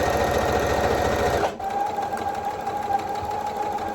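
A sewing machine stitches a t-shirt with a fast, loud mechanical rattle for about a second and a half, then stops abruptly, leaving a faint steady hum behind.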